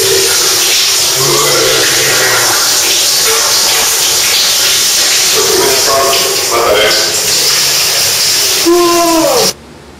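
Shower water runs steadily as a loud, continuous hiss, with someone speaking over it through much of the stretch before it cuts off abruptly near the end.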